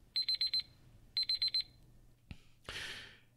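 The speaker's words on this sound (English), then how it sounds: "And you know that beep, beep, beep." Electronic alarm beeping in two quick bursts of four sharp, high-pitched beeps each, loud and close, followed by a thud and a rustling, hissing noise.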